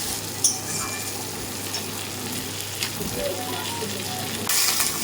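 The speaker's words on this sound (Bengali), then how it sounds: "পটল আলু একসঙ্গে ঢেলে দিলাম, একটু কষাতে হবে ভালো করে।" Pointed gourd and potatoes sautéing together in a hot pan for an egg curry, a steady soft sizzle with a few light clinks from stirring; fairly quiet and continuous, no talk.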